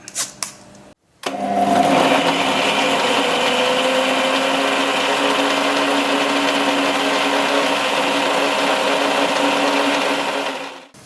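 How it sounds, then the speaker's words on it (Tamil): Mixer grinder blending onion and tomato into a fine puree: after a brief quiet gap, a loud steady whirring motor drone runs continuously and close, with a constant pitch and no talk. "இதை டைரெக்டாக ஒரு மிக்சியில் போட்டு நல்ல ஒரு ஃபைன் பியூரியாக அரைச்சிப்போம்."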